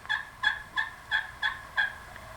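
Wild Merriam's turkeys gobble six times in a steady rhythm on Nebraska public land, the calls fairly faint and somewhat distant, with no talking.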